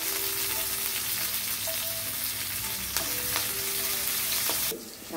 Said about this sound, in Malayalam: നമുക്ക് നന്നായിട്ടൊന്ന് ഇളക്കി മൂപ്പിച്ചെടുക്കാം ഇനി ഇതിലേക്ക് ചെറുതായിട്ട് അരിഞ്ഞു വെച്ചിരിക്കുന്ന 3 പച്ചമുളക് നമുക്ക് ചേർത്ത് കൊടുക്കാം